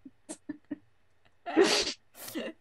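A single loud sneeze bursts out after a few soft clicks and breaths, followed by a brief exhale or murmur.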